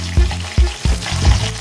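Chicken feet frying with garlic in a hot pan, giving a loud close sizzle with several sharp thuds and clatters as the pieces are stirred and turned.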